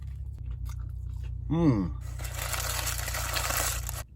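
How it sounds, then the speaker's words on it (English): A crunchy smashed burger patty with a lacy edge is bitten and chewed, giving a steady crunching texture over a low background hum, with a brief voice-like sound just before. "Every bite, you're getting a nice crunch from the burger patty."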